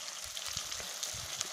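Pieces of country chicken going one by one into a hot pan with oil, giving a steady close sizzle and crackle and a few soft thumps as they drop in.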